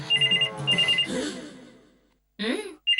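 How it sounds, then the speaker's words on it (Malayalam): A telephone rings in repeated electronic trills, with a voice talking over and between the rings nearby. "പോയി ആ ഫോൺ എടുക്കുകയോ ഒന്ന് ചെയ്യ്."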